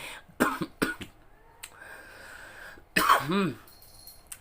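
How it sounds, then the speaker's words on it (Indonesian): A few sharp, close coughs in quick succession, then a pause and another harsh cough with a strained, choking edge. "Agak batuk tersedak gitu."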